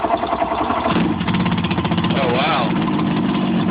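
An outboard-style boat engine just after starting with a couple of cranks and the choke, idling with a loud, steady, throbbing run throughout, while a voice briefly exclaims over it.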